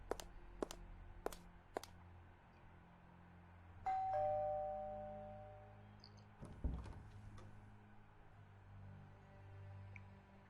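Doorbell in the point-and-click game Art of Murder: a single two-tone ding-dong chime rings out clearly and fades, preceded by a few sharp clicks and followed by soft footsteps and quiet room tone, with no talking.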